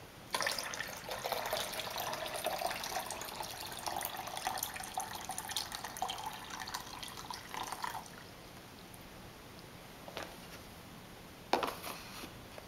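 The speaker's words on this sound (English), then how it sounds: "Let's add all the water." Water pours steadily into a pitcher for several seconds, a soft continuous splashing that stops, then a few faint drips and small splashes follow in a quiet room.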